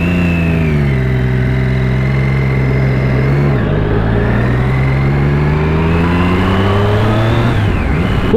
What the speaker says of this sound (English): Right, here we go. Let's ride the Daytona.